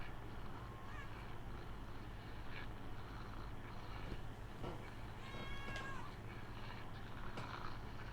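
A video game cat gives a few faint, short meows against a low, steady rumble, with scattered quiet game sounds around it.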